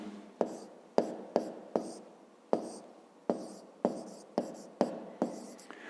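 A pen writing on paper for a math exercise: a dozen sharp taps and short strokes in an irregular rhythm, close and quiet, with no talk.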